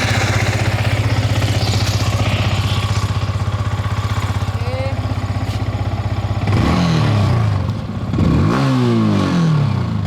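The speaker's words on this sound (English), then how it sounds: "So this is what the new R15 version 4 sounds like." A Yamaha R15 version 4 motorcycle engine idles loudly up close with a steady low rumble, then revs sharply twice near the end, each blip rising and falling.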